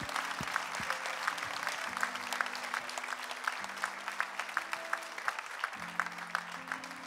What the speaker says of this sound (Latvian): Apsveiksim viņu ar aplausi.